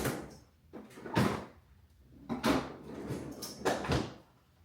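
Freezer door in a home kitchen opening and closing, soft thuds and rustling repeated a few times, close and fairly quiet.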